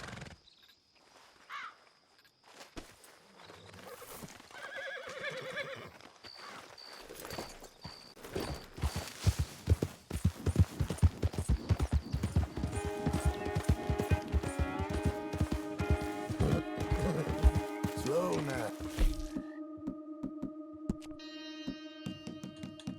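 Horse hooves clip-clopping in a steady trotting rhythm while riding in Red Dead Redemption 2, growing louder and denser, with game music and ambient effects layered over them.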